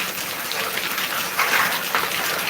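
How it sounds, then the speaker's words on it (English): Rain falls outdoors in a steady, dense patter, with a couple of slightly louder gusty surges partway through and no speech over it. "It's raining, so I'm adjusting my position."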